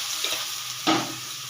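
Small mourala fish fry in a pan of hot oil just after being flipped, giving a steady close hiss of sizzling with a brief louder scrape of stirring partway through.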